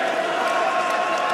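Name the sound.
audience applause for boxers after fight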